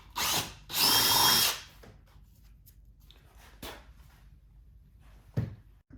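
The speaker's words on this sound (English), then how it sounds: "You'll use a 3/8 inch drill bit to do this, and just drill right where that part was." A power drill with a 3/8 inch bit whirs in two short loud bursts while installing an audio kit on a 2022+ BMW motorcycle, followed by quieter clicks and knocks of handling tools.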